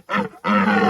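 A person imitates a red stag's roar with a vocal roaring call, two loud, close, guttural bursts: a short one, then a longer sustained bellow.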